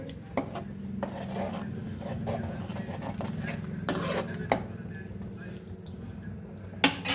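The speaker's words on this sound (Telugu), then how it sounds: "ఇప్పుడు ఈ మటన్ వచ్చి దీంట్లో ఈ మసాలాలు వేసేసి బాగా వేయించాలండి" Mutton sizzling with masala in a pan on the stove, a steady frying hiss under repeated scraping and clinks of a spoon stirring, with a couple of sharper metallic knocks.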